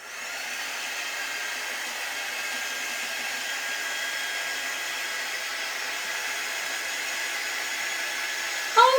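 A hair dryer runs steadily and loudly, drying paint on a handmade gnome craft sign, a constant whooshing roar that lasts throughout and ends with a brief bump.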